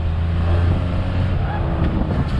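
A 1996 Suzuki Carry mini truck with a rebuilt F6A engine drives along at about 40, its steady low engine drone and road rumble continuous and close throughout.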